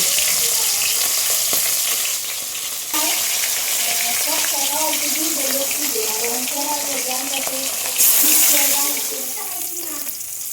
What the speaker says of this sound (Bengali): এবারে বাটা মাছটা আমি কড়াইতে দিয়ে দিব